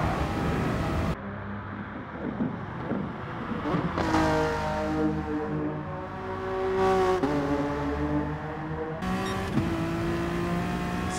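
Honda NSX Gr3 race car engine in Gran Turismo Sport, revving hard with a rising and falling tone across repeated gear shifts and accelerations, loud and sustained.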